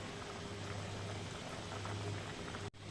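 Vegetable soup with moringa leaves boiling in a pot, a steady close bubbling and simmering hiss with no talk.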